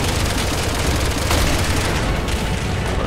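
Shotgun fire in the Resident Evil 6 game: a dense, loud burst of gunfire and booming impacts filling the whole short stretch with steady, continuous blasts.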